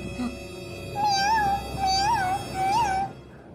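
A cartoon cat meows three times in a row, each call rising and falling, fairly clear and alone with a quiet backdrop.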